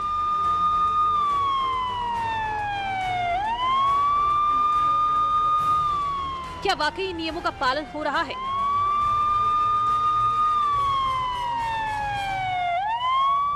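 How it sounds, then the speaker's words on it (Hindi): A loud vehicle siren wails up and down in long sweeping cycles, broken midway by a burst of rapid warbling yelps, while a voice speaks over it. "फिर हूटर सायरन बजाने पर"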